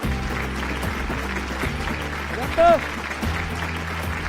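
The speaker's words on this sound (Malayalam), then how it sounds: "കൈയടിക്ക." A contestant on a studio game show claps with one hand against a timer while a host talks over it, producing a steady soft patter of claps under continuous speech.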